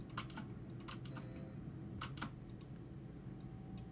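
Computer keyboard keys click close by in quick, scattered single taps and short bursts, with no voices over them.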